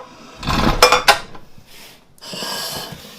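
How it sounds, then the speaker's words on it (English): Spatula scraping fluffy cookie frosting into a bowl, a few short close rasping strokes and clinks followed by a softer scrape. "I'm going to go ahead and put this into a bowl."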